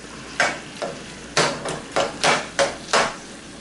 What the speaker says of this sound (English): I'm not worried about scraping up the pan because my pan has a lifetime guarantee on it.